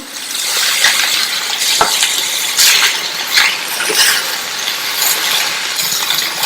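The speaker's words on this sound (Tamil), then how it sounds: "கொத்தமல்லி இலைகள் சேர்த்து நல்லா மிக்ஸ் பண்ணியாச்சு" Radish masala fry being stirred in a pan with chopped coriander leaves, giving a continuous loud sizzling and scraping with a few sharp spoon knocks against the pan, and no talking.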